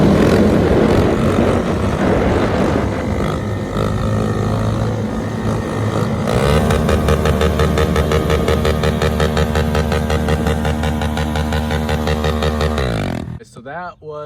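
A motorcycle held in a wheelie bounces off its rev limiter, the engine buzzing loud and close in a rapid, stuttering rhythm for several seconds before cutting off abruptly near the end.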